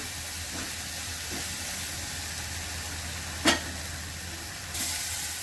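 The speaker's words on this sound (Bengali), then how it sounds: "এবার আমি মশলাটা ভালো করে কষিয়ে নেবো" Spice masala of cumin powder and salt frying in a pan while cooking masala rohu fish, giving a steady close hiss and sizzle with one sharp brief spike and a slight rise near the end.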